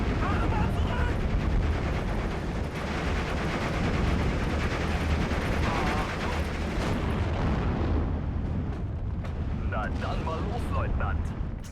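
Continuous roaring battle din from the wartime strategy game Steel Division: Normandy 44, with rumbling artillery and scattered gunfire blending into a heavy, unbroken wash; a voice talks intermittently underneath.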